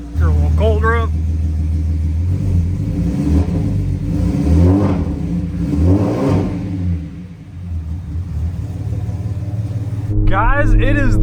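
A supercharged car engine cranks on a low battery, catches and runs, rising and falling through revs in a steady loud rumble with a whining tone, close by, as people talk over it at the start and end.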